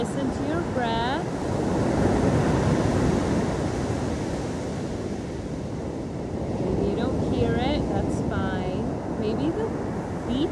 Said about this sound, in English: Maybe the beach waves